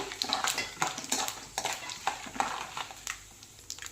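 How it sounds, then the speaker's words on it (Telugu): Mustard seeds and cumin frying in hot oil for an amla pulihora, a dense close crackle and sizzle broken by irregular spattering pops and a few utensil clinks, with no talking. "ఇప్పుడు ఇందులో మనం ఆవాలు కొంచెం జీలకర్ర వేసుకుందాం"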